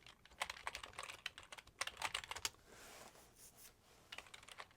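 Rapid, close computer keyboard typing runs almost continuously with a brief pause, crisp clicking keystrokes as server login credentials are entered, with no voices.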